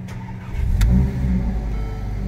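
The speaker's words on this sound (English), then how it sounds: "Okay, let's start this up." A Mercedes-Benz CLA 45 AMG starts in a garage after a front and rear brake pad and rotor job. The engine catches loudly and settles into a steady, close idle, with no talk.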